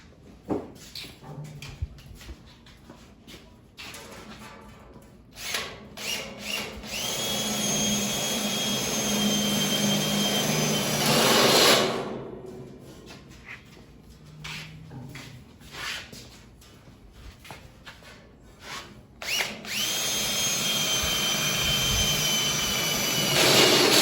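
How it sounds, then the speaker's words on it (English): A high-pitched power drill with a step drill bit whines in long bursts, winding up and cutting through metal twice, with scraping and handling noises between runs. "I'll go back to my step bit."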